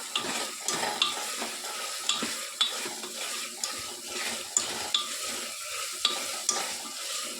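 Ginger paste and green chillies fry in a pan for chicken haleem, a soft continuous sizzle punctuated by regular scraping and clinking of a spatula stirring against the pot, with no voices.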